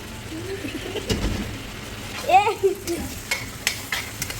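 Prawns frying with colorful vegetables in a pan give a steady sizzle, with scraping stirs and clinks of the utensil, and a voice talks briefly over the cooking.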